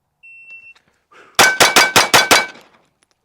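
A shot timer beeps and then a pistol fires six quick shots in a fast even string, each report loud and sharp at close range.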